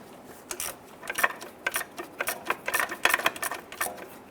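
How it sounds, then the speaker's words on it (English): Two 10mm bolts on the heat shield of a 2005-2010 Chrysler 300 motor mount are snugged down with a ratchet, giving rapid, quiet, close ticking clicks in uneven bursts. "I want to go ahead and snug down our 2 10mm bolts for our heat shield here"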